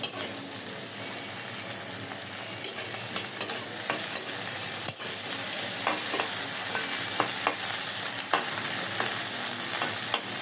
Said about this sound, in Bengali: তেলের মধ্যে দিয়ে দিলাম সেই ধোয়া শুটকিটা।